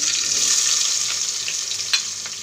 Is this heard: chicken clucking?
no